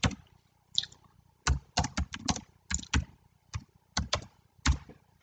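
Keys clatter on a computer keyboard as someone types, including a CTRL-M shortcut, in uneven bursts of sharp close clicks separated by brief pauses, with no talking.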